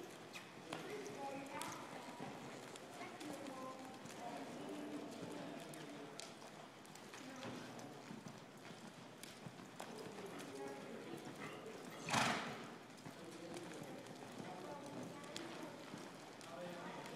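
A ridden horse loping in an arena, hoofbeats thudding in a steady rolling rhythm at moderate distance, with a sharp bump partway through, under a person giving spoken directions.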